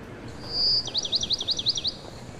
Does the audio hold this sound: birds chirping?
yes